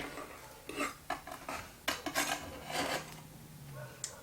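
Cinnamon rolls being set one by one onto foil-covered sheet pans, faint close clinks and crinkly foil taps at an uneven pace in a quiet kitchen.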